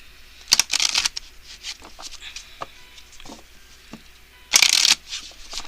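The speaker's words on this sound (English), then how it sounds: "I'm going to pull some Romance Angels cards here" Romance Angels oracle cards being shuffled in several bursts, with a sharp riffle near the start and another loud one toward the end, softer card rustling between.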